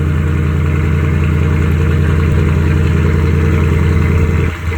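A Mercedes SL R230 with a 5.0 V8 runs loud just after a cold start, its exhaust a steady, heavy low drone that holds near and continuous before dipping briefly at the end.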